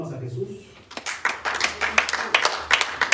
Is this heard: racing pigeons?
no